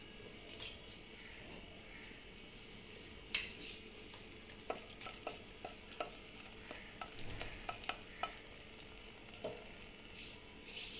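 Two dried red chillies fry in hot oil for chichinga bhaja, a faint continuous sizzle broken by sharp spatula clicks and scrapes against the pan, close and quiet, no voices.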